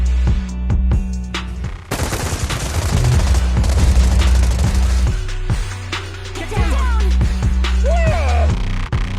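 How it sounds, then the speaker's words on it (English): Rapid bursts of automatic gunfire in the video game Zenless Zone Zero crackle across the scene, layered over a low droning musical score. "Gunfire? This pattern. Suppressive marching fire."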